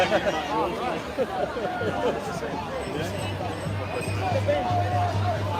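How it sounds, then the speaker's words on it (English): Crowd chatter at a protest in Melbourne, a steady babble of many voices close around, with nearby people talking over it. "I'll go through the crowd here"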